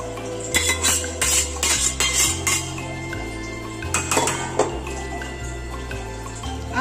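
Boiled chickpeas going into a kadhai make a jumble of metallic clinks, scrapes and wet splashes. A few louder clatters stand out over a low, steady hum.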